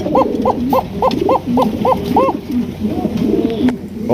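Pigeons cooing close by, a run of about eight evenly spaced rolling coos followed by softer, lower coos, over a steady background hum.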